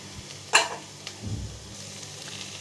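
Boiled chickpeas are tipped into onions frying in a pan. A sharp clatter of the ingredient going in is followed by a short burst of sizzling and stirring, all brief and close, without speech.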